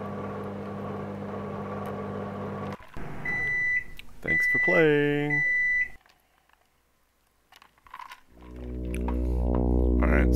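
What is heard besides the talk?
microwave oven running and beeping in a video game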